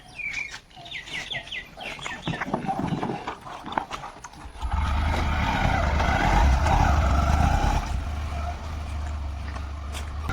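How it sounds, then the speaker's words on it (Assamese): Clicking and birdsong give way to a low, steady engine rumble as a motorcycle starts up and idles nearby. "বলক এতিয়া বাইকখন ষ্টাৰ্ট কৰি লওঁ"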